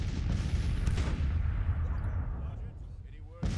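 Civil War artillery booms in the strategy game Grand Tactician: The Civil War: a dense, continuous low rumble of cannon fire punctuated by a sharp report near the start and another loud blast right at the end, close and heavy throughout.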